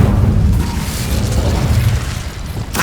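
A fire spell cast in a Hogwarts Legacy battle, a sustained roaring whoosh with a booming low rumble that carries through most of the moment and ends in a sharper burst.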